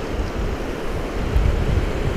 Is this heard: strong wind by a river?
yes